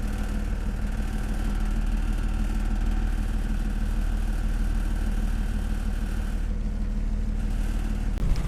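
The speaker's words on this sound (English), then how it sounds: "So we started up the engine to go motor back to our new mooring at Wickle Marine." A sailboat's engine runs steadily at idle at a boatyard, a continuous low, even drone close by with no talking.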